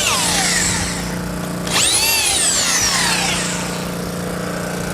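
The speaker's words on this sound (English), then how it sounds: "I'll need to countersink the other side now where that's emerged." A power drill countersinks a hole emerging through wood, its motor whining up and down in a loud, close burst with rising and falling pitch over continuous tool noise.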